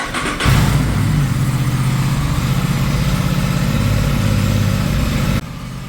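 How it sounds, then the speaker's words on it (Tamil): An Aprilia RS 457 motorcycle, still cold, cranks and fires up, then settles into a loud, steady idle with an even throbbing pulse before the engine note drops off near the end. "பைக்கை ஸ்டார்ட் பண்ணலாம்."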